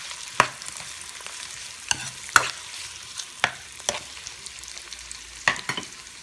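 Potatoes and onion frying together in a pan for a spicy okra dish, with a soft steady sizzle broken by several sharp scraping stirs at irregular intervals, close and fairly quiet.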